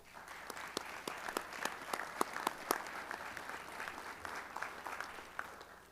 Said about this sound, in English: Please join with me in giving these individuals and groups a round of applause.